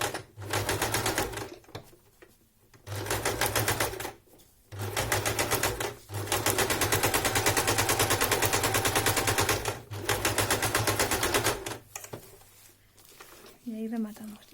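Sewing machine stitching and back-tacking a seam on a fabric face mask, loud close rapid mechanical chatter in several bursts of a second or two up to four seconds, separated by brief pauses.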